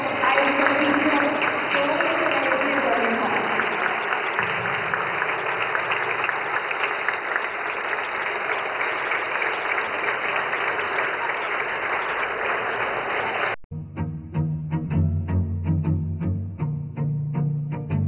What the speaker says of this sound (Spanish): un fuerte aplauso a estos hijos